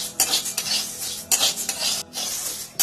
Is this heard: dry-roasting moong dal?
yes